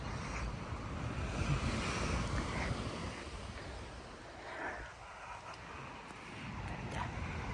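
Ocean waves roll in at high tide on a Cancun, Mexico beach, a continuous broad wash of surf with wind buffeting the microphone and no voices.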